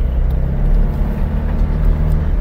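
A Toyota Innova Crysta cruising at high speed, heard from inside as a steady, loud low drone of engine and road noise with no pauses and no voices.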